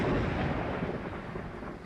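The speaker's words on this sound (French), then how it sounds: "il y a de l'orage en vrai et il y a de l'orage dans mon casque" Thunder from a real thunderstorm, a deep continuous rumble that rolls on steadily and fades only slightly over a couple of seconds, with no voices.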